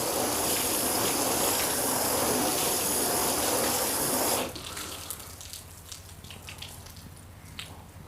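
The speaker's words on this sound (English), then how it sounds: "the water is running over this side" Water sprayed over a sealant-coated car panel, a loud steady hiss of running water for about four seconds that stops abruptly, followed by quiet dripping and trickling runoff.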